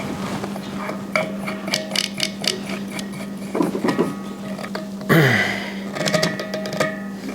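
Fitting being screwed onto a Harbor Freight soda blaster, close clicking and ratcheting of threads and metal parts with irregular taps and a brief scraping rattle midway.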